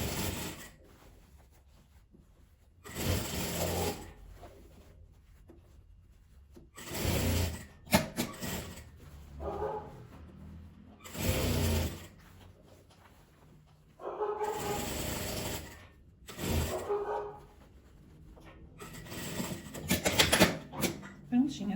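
Sewing machine stitching a fabric flower-shaped gift bag, running in several short bursts of a few seconds each, separated by quieter pauses with handling rustle.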